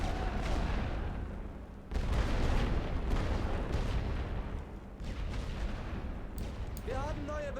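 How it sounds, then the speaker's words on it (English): A dense artillery barrage in The Great War: Western Front, a World War I strategy game, rumbles on as continuous booms and overlapping gunfire, loud and unbroken, with a brief pause partway through. "we're hitting them with artillery"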